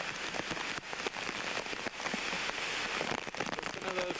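Hurricane Bob in 1991 driving wind and heavy rain through roadside trees, a dense, roaring wash of rain and gusts that stays loud throughout, with a faint brief tone near the end.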